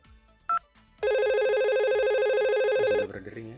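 A simulated telephone in a Packet Tracer VoIP network rings with a steady electronic tone that holds for about two seconds, after a short beep and before a voice speaks.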